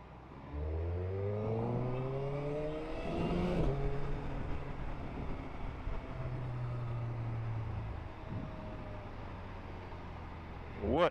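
A 2023 Suzuki Hayabusa motorcycle rides along with a steady engine drone, its pitch climbing and falling through gear changes and a rev near the middle, with a rider's voice briefly heard over the wind and engine.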